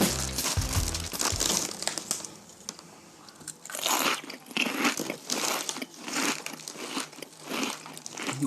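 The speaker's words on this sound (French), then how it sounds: "Là, je déguste un paquet de chips. saveur cheeseburger." Loud, close crunching of cheeseburger-flavoured potato chips, with crinkling of the crisp bag and repeated bites and chewing in irregular bursts, no talk over it.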